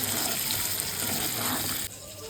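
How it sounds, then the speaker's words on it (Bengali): Potato pieces frying in a pan, a steady broadband hiss and crackle that runs close and even, then drops abruptly softer near the end. "চটজলদি 2-3টে আলু কেটে নিয়েছি এবং সেগুলোকে পাশে ভাজতে বসিয়ে দিয়েছি"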